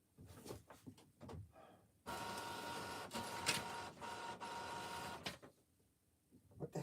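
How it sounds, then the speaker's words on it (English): A home printer works through a simple document, starting with a few short mechanical clicks and whirs, then a loud continuous feed-and-print grinding for about three seconds before falling back to intermittent clunks. "I wanted to print a simple document, and my printer is just going into overload."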